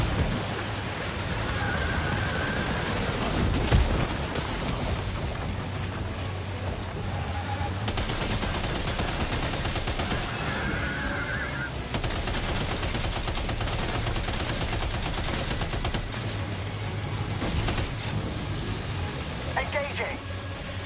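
Game gunfire in Death Stranding 2 crackles in dense, repeated bursts over a constant hiss like heavy rain, continuing at moderate loudness for about twenty seconds.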